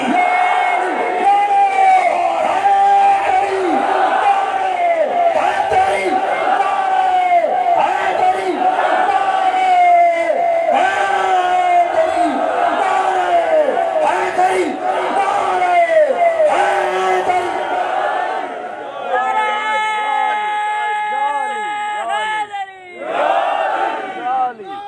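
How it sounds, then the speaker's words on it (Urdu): A large crowd at a religious conference at a Sukkur, Sindh seminary loudly chants a Haidari slogan in unison, the voices rising and falling in repeated rhythmic bursts that stay loud throughout, with a lead voice calling out near the end. "دونوں ہاتھ بلند کر کے نعرہ حیدر کا بلند کرو"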